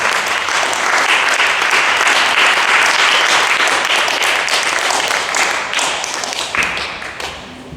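A church congregation applauds in sustained, dense clapping that stays loud and steady for several seconds, then thins and fades toward the end.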